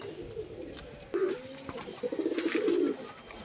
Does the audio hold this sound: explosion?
no